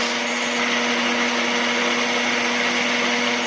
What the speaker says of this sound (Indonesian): Selanjutnya digiling, dihaluskan sampai halus